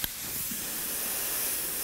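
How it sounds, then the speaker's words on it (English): An airbrush sprays paint onto a helmet, a steady close hiss that starts with a sharp click and runs without a break. "I'm using an airbrush."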